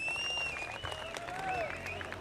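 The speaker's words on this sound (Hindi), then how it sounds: "वो तालियां बजा रहे" A crowd claps steadily at a club tournament final match, with whistles and shouts mixed into the applause, while a commentator talks over it.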